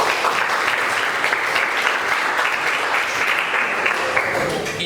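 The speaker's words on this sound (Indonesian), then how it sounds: "Aplaus dulu untuk Kak Ridwan" A school audience at an SMKN 2 Kota Bengkulu event applauds a speaker with loud, dense, sustained clapping that fills the whole stretch without letting up.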